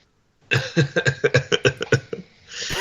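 A fit of rapid, repeated coughs, about ten in quick rhythm, close by, trailing off into a rough breath at the end.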